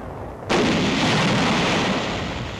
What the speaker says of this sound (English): Another cave is blasted by a grenade.